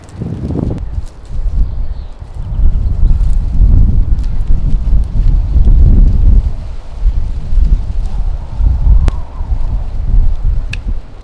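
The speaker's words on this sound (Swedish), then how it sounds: "man får typ ont i öronen när man är ute i sånt där, i sån här hård vind och det är kallt" Hard, cold wind buffets a microphone outdoors in a garden in spring, a loud rumbling roar that swells and gusts continuously with occasional faint ticks.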